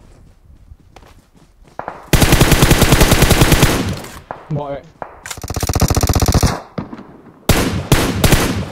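Automatic gunfire in the mobile battle-royale game PUBG Mobile comes in loud, dense bursts of rapid shots separated by short gaps, while players talk between them.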